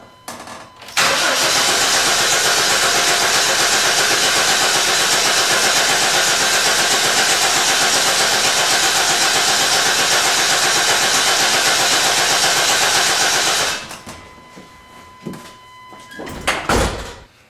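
A car engine cranks over continuously and loudly at close range for about thirteen seconds with the fuel pump relay disconnected, then stops, leaving a few clanks and knocks.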